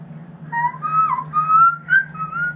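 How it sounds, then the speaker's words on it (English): A thin, high whistle-register singing voice glides through a wavering, bending melody of short phrases, fairly faint over a steady low hum, with no talking. "cover song practice with high tension whistle tone"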